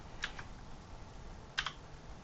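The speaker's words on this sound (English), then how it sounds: "I'm directly typing in the distance I want it to move in that direction." Two quick bursts of keystrokes on a computer keyboard as a distance value is entered into CAD software, soft and close against a quiet room hum.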